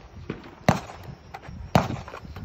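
Rifle shots ring out at a women's tactical shooting competition in Texas: two sharp, loud reports about a second apart, with fainter pops and outdoor background noise between them.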